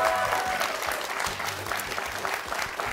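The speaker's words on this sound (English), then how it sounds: "Nice round of applause" A studio audience at a high school quiz show semifinal applauds steadily and fairly loudly, with some low background sounds mixed beneath the clapping.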